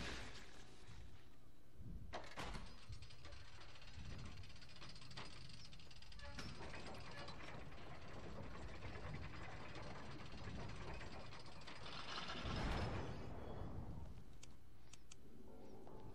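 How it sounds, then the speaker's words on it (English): Mechanical platform carrying a telescope dropping in a castle laboratory in the Van Helsing game, a grinding, ratcheting machine hiss with clanks, ending in a heavier thud near the end. "This drops the platform with the telescope on it."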